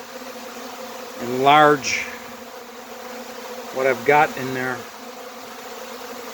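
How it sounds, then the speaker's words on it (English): A honeybee swarm fans and pours into a hive, making a steady, dense buzz that runs the whole time beneath a voice speaking twice. "just all those bees fanning"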